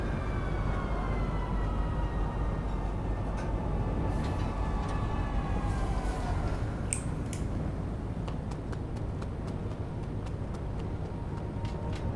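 A train pulling into Central Station in the Star Citizen space game, a loud continuous rumble with gliding whine tones that drop in pitch as it slows, followed by sharp metallic clicks and clacks as it comes to a stop.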